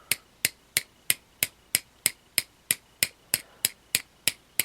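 A hammer taps on a Honda S90 petcock part in a dozen sharp, evenly spaced metallic knocks, close and crisp, with quiet gaps between each strike.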